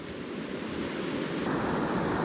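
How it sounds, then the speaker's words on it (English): Steady broadband rush of the Cheakamus River running beside a hiking trail, a continuous close roar of flowing water with no breaks. "Now here's the Cheakamus River, which you can always hear all the way along the trail."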